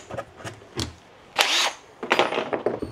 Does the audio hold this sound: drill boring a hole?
yes